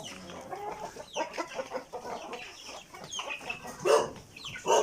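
Young gamecock stags cluck and murmur close by in a run of short, uneven, throaty calls, with one sharper, louder squawk near the end. No one speaks.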